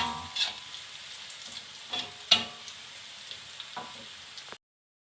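Sliced shallots and garlic fry in hot oil for spiced beef stew, a steady broadband sizzle with a few louder crackles and stirring scrapes, close and unaccompanied by voices until it cuts off near the end.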